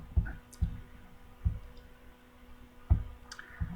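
Computer mouse clicks, about six sharp separate taps spaced irregularly, close and fairly clear over a quiet background with no talking.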